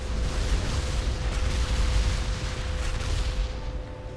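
The BBBFG cannon in World of Warcraft fires with a deep, sustained rumbling blast that rolls on steadily for several seconds, loud and heavy with a low boom and a faint steady tone.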